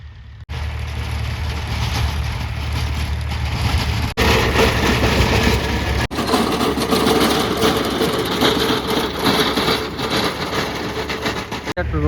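A large tractor engine runs steadily in a foggy field, a loud, continuous rumble nearby with a few brief dips and jolts.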